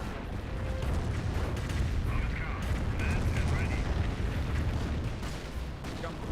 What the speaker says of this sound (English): Two Panthers are now receiving Calliope rockets